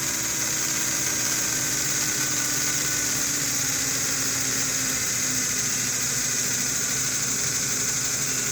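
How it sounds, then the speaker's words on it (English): A steady, continuous hiss with a fine mechanical whine underneath, like rushing steam from an American Flyer model train smoke unit, constant and unbroken with no pulsing rhythm. "what you're hearing now is more like a rushing steam"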